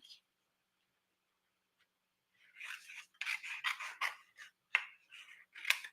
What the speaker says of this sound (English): where are my snips? I'm going to cut this guy here out.